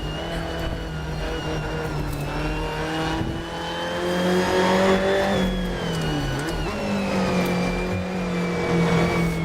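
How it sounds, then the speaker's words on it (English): A 1960s Alfa Romeo Giulia TZ2 race car on the Nordschleife roars loudly from on board, its engine holding a steady high drone, then dipping and surging again as it revs through gears. "They can also not hear me as the engine is so loud."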